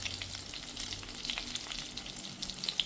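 Brinjal slices fry on a hot tawa over a medium flame, giving a steady, soft crackling sizzle with light popping throughout, fairly quiet and close, with no voices.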